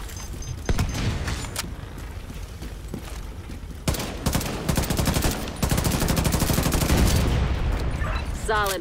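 Rapid machine gun bursts and scattered gunshots ring out in The Division 2 combat, dense and loud with a sharp crack at times, while a player talks over the firefight.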